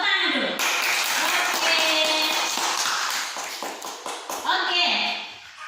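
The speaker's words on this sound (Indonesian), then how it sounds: "Tepuk tangan dulu" A primary-school class of children clap their hands in a classroom, a burst of quick, busy clapping with a few voices chattering over it and a teacher's speech at the start and end.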